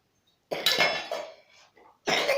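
A boy's few sharp coughs burst out close by after a short silence, followed by a quieter breathy stretch and another harsh cough at the end.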